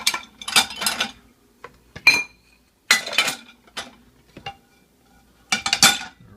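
Dishes and cutlery clink and clatter in separate bursts while a dishwasher is loaded, with sharp metallic and ceramic knocks close by and short pauses between groups of hits.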